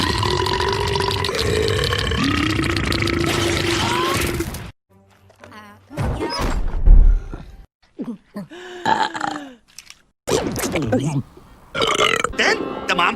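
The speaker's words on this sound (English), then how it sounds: "Each burp was different!" Female cartoon characters burp several times, each burp different in pitch and length, loud and close, with bursts of dialogue and silent gaps between them.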